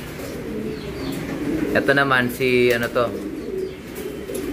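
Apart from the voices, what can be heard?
racing pigeons cooing in a loft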